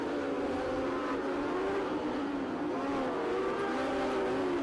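Modified sprint and midget race cars roar around a New Zealand oval track at a midget title meeting, their engines a continuous, loud, droning whine that rises and falls as the pack laps.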